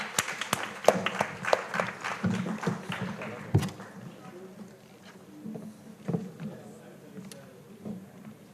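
An audience at an engineering institution event in Karnataka, India, claps to welcome a speaker: scattered, uneven hand claps that are strongest at first and then thin out to a few sporadic claps.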